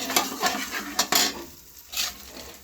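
Chicken stew with cloves and oil stirred in a pot over high heat, with a few quick scraping and clinking strokes of a spoon against the metal over a soft sizzle, close and brief, no talking.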